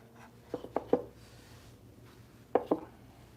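Knives knocking together as they are placed into a cutlery carrier in a knife-finishing shop, heard as two sharp clusters of three quick metallic clacks separated by a pause, close and distinct over a quiet background.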